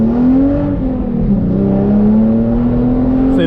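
Hyundai Genesis Coupe fitted with EBC Yellowstuff brake pads accelerating; a loud, steady engine drone holds close throughout, its pitch dipping slightly then rising again, with no talk.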